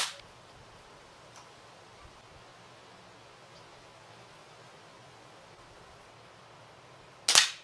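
A Daisy Avanti 753S 10-meter air rifle fires a single sharp, close shot near the end, after a long, quiet stretch of low room hiss.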